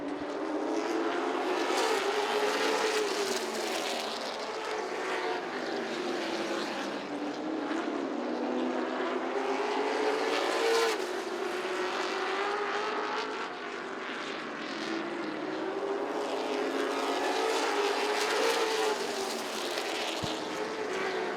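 Late model stock cars race at Southside Speedway, a steady loud engine roar with rising and falling passes as the pack circles the oval, continuous throughout with no talk.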